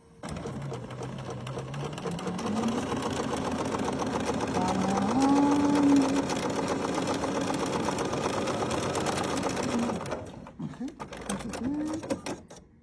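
Bernina sewing machine stitching a French seam, a close steady motor whir with rapid needle ticking that speeds up, holds and then stops, with a voice speaking over it.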